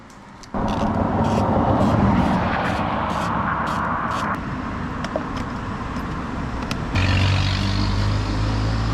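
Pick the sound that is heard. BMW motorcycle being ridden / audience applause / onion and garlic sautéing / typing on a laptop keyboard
BMW motorcycle being ridden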